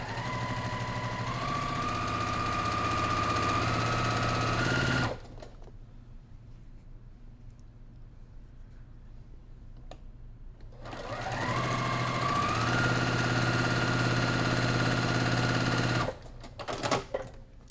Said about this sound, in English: I use a 1/4 inch foot, and I'm going to stitch.